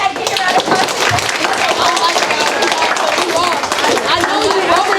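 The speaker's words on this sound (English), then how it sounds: "give a round of applause" Classroom audience at a mock trial applauding a teacher, steady dense clapping throughout with voices mixed in.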